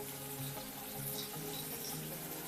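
Tomato sautéing with onions in a hot pan gives a steady, close sizzle and frying crackle with no talk.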